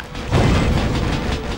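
Gunfire in the video game Red Star, a deep booming blast with a heavy low thud that sustains across the short moment, loud and alone with no talk over it.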